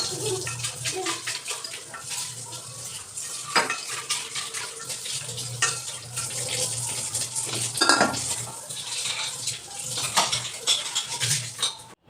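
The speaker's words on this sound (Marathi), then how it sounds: "धुवून घेते आता भांडे." Pots and dishes being washed in a home kitchen: running tap water splashing, with frequent clinks and clatter of steel vessels and cutlery close by, continuous and fairly loud throughout.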